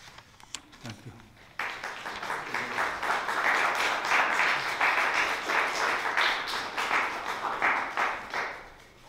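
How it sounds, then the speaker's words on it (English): Audience at a poetry reading bursts into applause after a poem, a dense, steady clapping that swells and holds for several seconds, following a few faint sounds beforehand. "Again, applause for the poet, applause for the poem"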